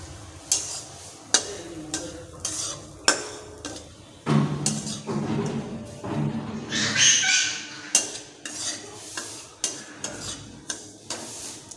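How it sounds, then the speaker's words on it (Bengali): Semolina fries in hot oil in a wok as a spoon stirs and scrapes it in repeated rhythmic strokes, with a soft sizzle between them. "এবার আমি কড়াইতে দিয়ে দেব সুজি সুজিটা প্রথমে ভেজে নিতে হবে লাল লাল করে"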